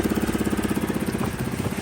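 A Honda Helix scooter engine idles steadily with an exhaust leak, a close, continuous rapid putter carrying a rhythmic low chuffing pulse without a break.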